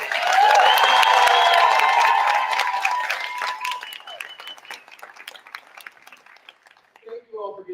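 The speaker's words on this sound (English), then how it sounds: "Another round of applause for our amazing director." Enthusiastic audience applause with scattered cheering fills a hall at a talk on theological education, loud at first, then thinning into lighter clapping before a voice begins speaking.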